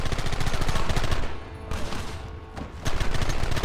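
Loud, dense rapid gunfire in the video game Red Dead Redemption, a sustained barrage of overlapping shots that briefly thins out midway and then surges again.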